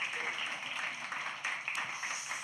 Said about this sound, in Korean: 하나님께 감사와 영광의 박수를 다시 한번 올려드렸으면 좋겠습니다